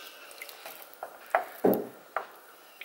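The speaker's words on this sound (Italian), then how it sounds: "Qualche pomodorino andrò a schiacciarlo con la forchetta" Cherry tomatoes, yellow ones, squashed with a fork in a pan, giving a few soft wet squishes and light taps spaced irregularly, close and fairly quiet with no talking.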